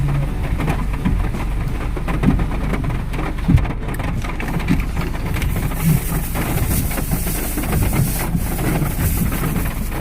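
Heavy rain pours down in a dense, loud, continuous roar, with gusts of wind buffeting the microphone and occasional louder splashes.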